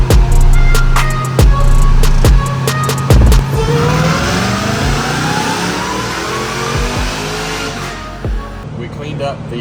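A tuned Jeep Trackhawk running an E85 tune is revved hard, giving several sharp, loud blips. A sustained high-rpm roar follows, and the engine then drops back to idle at close range.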